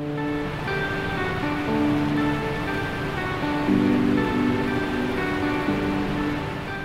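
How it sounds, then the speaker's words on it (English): A constant rushing of flowing water from a canyon waterfall fills the scene, with a few sustained tonal notes drifting over it. "The water is flowing beautifully."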